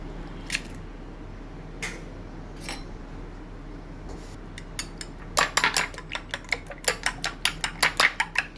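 A utensil beats eggs mixed with green chili, onion and salt for an omelette, a few scattered clinks at first, then a quick run of sharp, close taps against the bowl.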